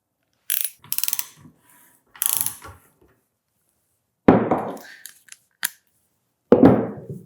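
An end cap is removed from a 5.56 muzzle device using tools, with sharp metallic clicks and ratcheting scrapes, a few short bursts then louder close grinding turns separated by silence.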